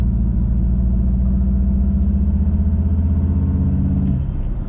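Modified Volkswagen Golf R Mk7 engine and exhaust droning loudly at steady high revs, a deep continuous rumble that drops off near the end as the throttle is released.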